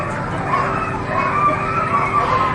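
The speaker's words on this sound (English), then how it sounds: "it's a shame these dogs aren't more excited about this" Several harnessed sled dogs yipping, whining and barking at a dog-sled camp in Alaska, a steady excited chorus close by with continuous overlapping calls.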